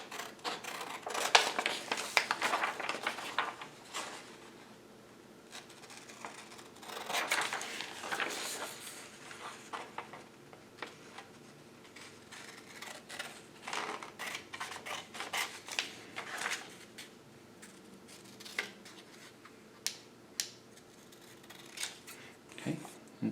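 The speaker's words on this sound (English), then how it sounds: "And cut out my parallelogram." Scissors cut out a paper parallelogram close up, a quiet run of irregular crisp snips and paper rustles with short pauses between cuts.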